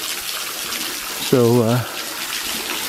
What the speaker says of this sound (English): this water here comes from this waterfall right there. There's like a double layer waterfall.